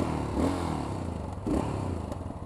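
A Yamaha FZ6R motorcycle engine revs up twice in quick succession, each throttle blip rising briefly over a steady, rumbling idle, fairly close and with no one speaking.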